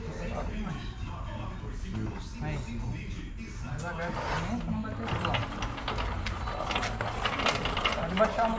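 A wrench loosening the final bolt on a car engine being removed, with continuous ratcheting and metallic mechanical clicking close by throughout, while people talk over it.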